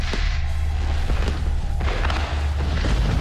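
Fireworks going off in an Unreal Engine video game, a steady dense roar with repeated low booms and thuds, loud and continuous with no voice over it.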